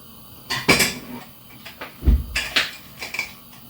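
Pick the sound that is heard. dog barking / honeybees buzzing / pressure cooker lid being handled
pressure cooker lid being handled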